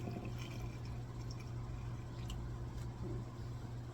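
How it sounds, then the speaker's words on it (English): Homemade pepper sauce is poured slowly into a bottle, a soft, continuous trickle of liquid over a low steady background hum, with no talking. "We're going to actually try to pour a little bit of this in the bottle."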